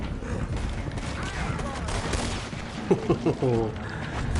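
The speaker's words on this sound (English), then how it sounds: "Oh, they be shooting." Scattered gunshots and a short volley ring out in Red Dead Redemption 2. They are moderately loud and mixed with talking voices.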